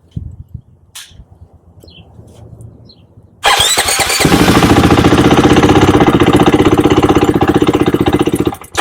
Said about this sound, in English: we're going to show you this one starting up, cracking the gas